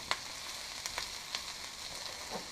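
Kale frying in a pan with a steady, close sizzle, broken by a few short clicks and scrapes as it is stirred.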